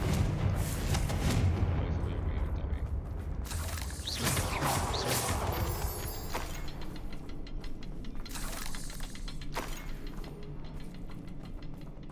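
Confringo blasting spells explode repeatedly in the Hogwarts Legacy video game, loud booming bursts with crackling debris over a constant rumbling backdrop, and a voice talks between the blasts.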